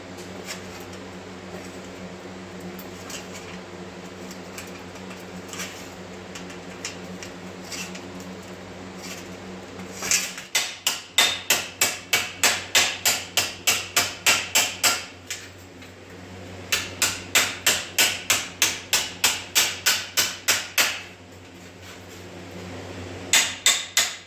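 Sheet metal edge worked with a hammer and dolly on a VIC100 project: after a quieter stretch, fast rhythmic metallic strikes come in two long volleys, loud and close, with a final short burst.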